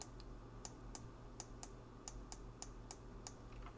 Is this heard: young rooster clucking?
no